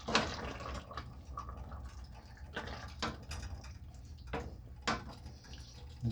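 Thai chicken curry simmers in a pot with faint, sparse bubbling pops and drips over a quiet background.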